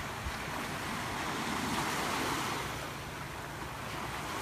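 Ocean waves break on a shore in a soft, hissing wash that swells and fades once, fairly faint, with some wind across the microphone.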